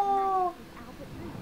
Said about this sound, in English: it's a little cat I used to know